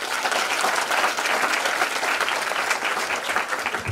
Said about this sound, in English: I think we deserve a hand of applause.